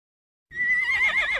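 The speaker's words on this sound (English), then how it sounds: "here a neigh, there a neigh, everywhere a neigh-neigh" A horse gives a single loud whinny that starts after a short silence, rising and wavering in pitch with a vibrating, shaky tail, close and clear with no talking over it.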